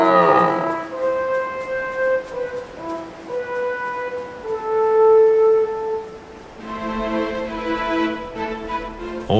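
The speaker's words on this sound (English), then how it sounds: "All day long, the rutting calls of stags echoes from the slopes." Red deer stags roar during the autumn rut in the Arlberg mountains, long, drawn-out bellowing calls, several following one another and overlapping, with no voices.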